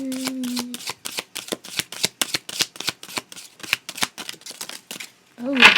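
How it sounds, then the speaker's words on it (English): A deck of goddess oracle cards is riffled and shuffled in a steady run of crisp, close flutters lasting several seconds, with a brief voice at the start and again at the end. "So we're going to pull a goddess card, and see what comes up."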